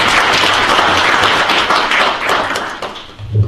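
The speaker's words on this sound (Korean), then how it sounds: "큰 박수로 환영해 주시기 바랍니다." A conference audience at a technology development program briefing applauds to welcome a speaker: loud, dense clapping from many hands, sustained throughout and easing slightly near the end.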